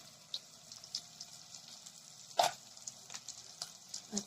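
Spices are stirred in a cooking pan over a soft, faint sizzle, with scattered light scrapes and one sharper clack of the utensil against the pan.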